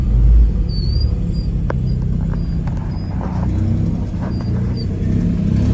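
A purple 1967 GMC K1500 truck's engine runs in a steady low rumble, close and fairly loud, with faint squeaks and clicks over it.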